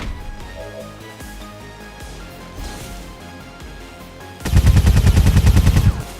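A rapid burst of automatic gunfire from XCOM 2, a tight string of loud repeated shots hammering for about a second and a half near the end over quieter game ambience.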